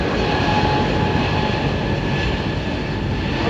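An Iberia Airbus A320neo airliner departs Heathrow Airport with a loud, steady rumbling engine roar that holds at full power throughout.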